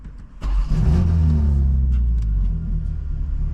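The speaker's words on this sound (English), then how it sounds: "Start it up for you guys." A 2025 BMW M4 tuned to 800 horsepower cranks and fires at about half a second, then settles into a loud, deep, steady rumble that lingers close up.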